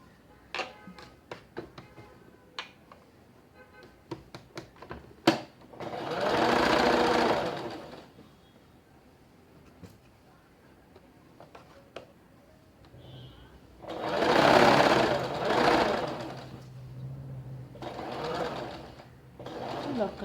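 A sewing machine stitches a straight strip onto a stand collar on a kurti in two separate runs of a couple of seconds each, loud and close, with clicks and handling taps between them.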